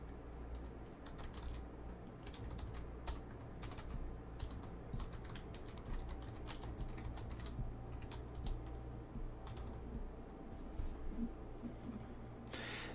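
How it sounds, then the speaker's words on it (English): Steady typing on a computer keyboard during an online poker tournament stream, rapid close clicking keystrokes running continuously and fairly quietly throughout. "Jeff Murr, sorry if that typing was a little loud, man."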